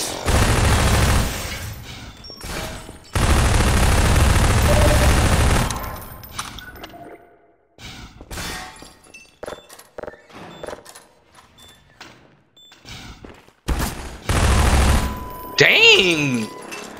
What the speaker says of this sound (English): Give me my machine gun.